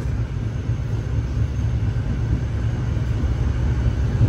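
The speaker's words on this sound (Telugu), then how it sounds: "పెరంబూర్ స్టేషన్ నుంచి మన ట్రైన్ అయితే బయలుదేరిపోయింది" Double decker express train pulling away from Perambur station, a steady loud low rumble and rolling hum that continues without break throughout.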